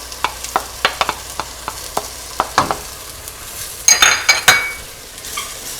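Red lentils stirred into a vegan lentil tortilla soup in a pot, a series of sharp utensil taps and scrapes against the pan over a soft sizzle, close and clear with no talking.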